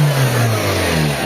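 Idling engine of a Toyota GLI big body sedan after an engine mount repair, a steady low hum with a smooth, even drone and no obvious shaking or stumbling, close up throughout.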